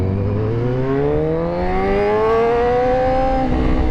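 Yamaha R9 motorcycle engine revving hard on a race track at a track day, a loud continuous rising whine climbing steadily in pitch for about four seconds as the bike accelerates.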